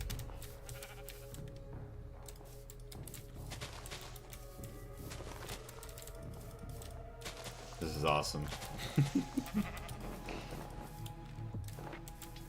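Sheep bleating in the Minecraft GregTech New Horizons modpack, a few short game bleats around the middle over steady background game music and ambience, with someone talking.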